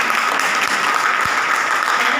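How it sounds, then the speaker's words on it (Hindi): Dense applause from a crowd at a girls' intercollege event, a steady wash of clapping throughout, fairly loud and close, with no pauses. "तालियां बजा दें।"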